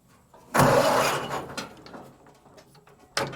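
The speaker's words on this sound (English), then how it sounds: "This thing hasn't been started in a year, so let's see if it will start up." The Sloppy Speedster, a car left unstarted for a year and leaking gas, cranks and sputters in a loud, close burst that dies away over about a second, then tries again briefly at the end.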